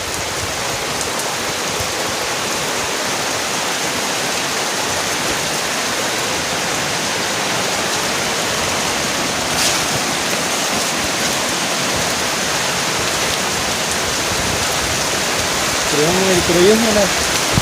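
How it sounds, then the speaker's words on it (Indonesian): Heavy rain pours steadily at night over an outdoor hut in a dense, constant hiss, with a brief voice appearing faintly near the end. "Malam ini suasananya lagi hujan"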